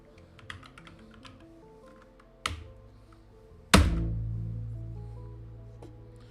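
Sparse typing on a malfunctioning computer keyboard, scattered light key taps followed by two heavy thunks, the second ringing out with a long low decay; fairly quiet and close, with no talk.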